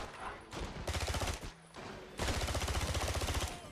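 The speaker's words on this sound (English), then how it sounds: "Okay, we've got a machine gun." Machine gun fire in the 007 Blood Stone video game, dense rapid bursts of shots in several rattling volleys separated by short pauses, moderately loud.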